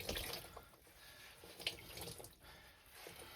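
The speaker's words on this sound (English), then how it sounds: "now what I want to do is wring it out here" Water splashing and trickling from hand-washed clothes being wrung out over a sink or tub, a soft continuous patter with a few brief drips, faint and close.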